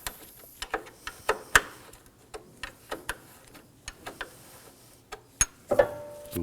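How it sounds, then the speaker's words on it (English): A wrench works loose two 10mm bolts holding the AC condenser cooling fan assembly on a 2014-2020 Acura MDX, giving a string of sharp, close metallic clicks and ticks spaced irregularly over several seconds, with no talking. "Now we can get the 2 10mm out. In this case, I'm using a wrench."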